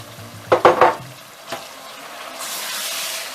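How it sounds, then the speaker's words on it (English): Chopped tomato tipped into a pot of frying goat stew: a few loud close clatters and scrapes against the pot, then a rising steady sizzle as the tomato hits the hot oil. "And then I add my thin chopped tomato."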